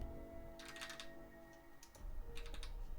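A few brief bursts of computer keyboard typing, quick clusters of key clicks separated by pauses, heard close over a steady low background hum.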